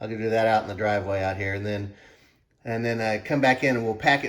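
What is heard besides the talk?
No everyday noise stands out behind the speech.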